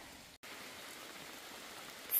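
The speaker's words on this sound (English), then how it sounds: "Still raining." Steady rain falls on the Appalachian Trail in Vermont, a soft even hiss that breaks for a moment and then returns, with a brief louder rustle at the end.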